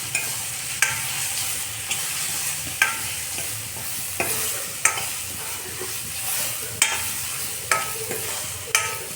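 Garam masala, coriander powder, turmeric and kasuri methi being stirred into chillies frying in a pan for a village-style Vidarbha curry; a spoon scrapes and knocks the pan in a steady rhythm over continuous soft sizzling.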